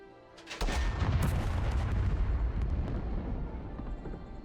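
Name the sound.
artillery firing in Second Front video game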